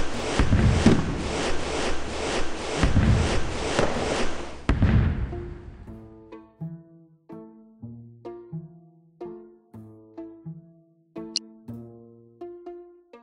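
Fireworks in a kids' number grid game: a rapid burst of crackling booms, then a sequence of separate synthetic pops with ringing tones, each launch distinct and spaced out.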